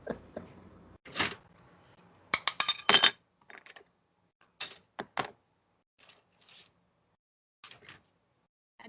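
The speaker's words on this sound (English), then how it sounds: "See what I mean by glass flying in?" Clinking and tinkling of glass pieces in a series of sharp bursts, with a dense cluster of crashes near the start followed by scattered lighter clinks tapering off, fairly close and loud.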